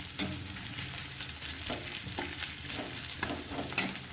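Onions fry in a pot for a one-pot tomato pasta, giving a steady close sizzle broken by a few sharp clinks of a spoon stirring against the pot, with no talking.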